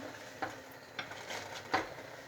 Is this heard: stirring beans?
yes